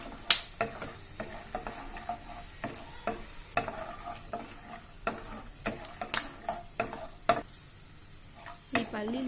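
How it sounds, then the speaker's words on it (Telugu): Peanuts frying in four to five spoons of oil in a pan, for coriander rice; a soft sizzle under irregular stirring clicks and scrapes, close but moderately quiet, with no speech. "ముందుగా పల్లీలు వేసుకొని వేయించుకోవాలి"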